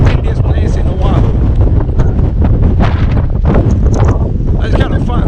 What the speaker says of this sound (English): Pali, look out, the windiest place in Oahu.